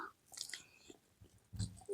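Someone eats egg curry made with gongura leaves, village style, giving a couple of close, soft bites and chewing sounds across a short, quiet stretch.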